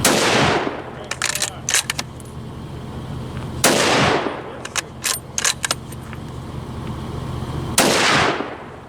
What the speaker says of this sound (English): This is your first time shooting a full power rifle